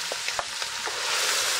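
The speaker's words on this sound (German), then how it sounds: "und unser Rinderhackfleisch und dann braten wir das scharf an" Minced beef seared hard with onions in hot oil in a pot, giving a steady close frying sizzle with a few short stirring scrapes and no voices.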